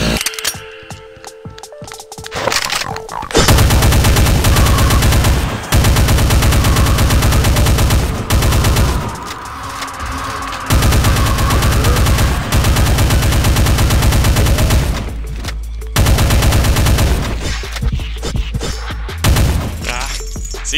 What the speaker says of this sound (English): Thought he was alive, so I shot at him.